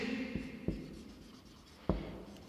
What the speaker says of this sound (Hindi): यहां पर मैं लिख भी देता हूं